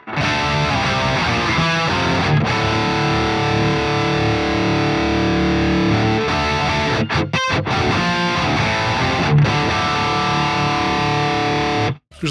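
A lower-gain, crunchy distorted electric guitar tone through the Bogren Trivium AmpKnob yellow channel, played as sustained chords and riffs, loud and continuous with only brief gaps, no talking.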